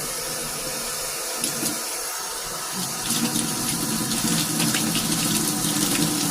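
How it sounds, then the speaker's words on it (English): Cold tap water runs steadily into a container in a home kitchen, a close, continuous splashing gush that brightens and grows slightly louder halfway through, with no voices. "put very, very little cold water in here. It has to be cold."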